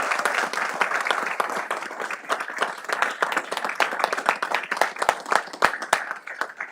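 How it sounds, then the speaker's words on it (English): An audience at a board of education meeting claps for several seconds, the individual hand claps distinct and close in an uneven, lively patter that stays fairly loud and never builds into a roar. "So join me in giving them a big round of applause."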